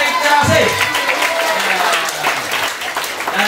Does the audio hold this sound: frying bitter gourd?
no